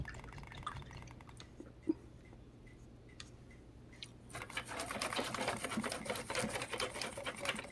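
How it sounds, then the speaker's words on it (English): Makeup brush being rinsed in water while painting miniatures, soft faint dripping and swishing at first, then louder, busier splashing and trickling for the last few seconds. "let me just wash off my makeup brush one more time"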